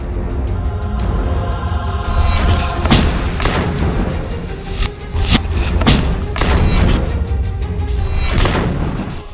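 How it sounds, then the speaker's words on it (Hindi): Combat explosions from RPGs, thermobaric grenades and rockets fired at close range in Gaza street fighting, a series of heavy thuds and booms in irregular bursts, loud and near, over a constant rumbling din. "हमास की अल कसम ब्रिगेड के ये लड़ाके RPG, थर्मोबैरिक ग्रेनेड, रॉकेट से इजरायली सेना पर बेहद पास से हमले कर रहे हैं"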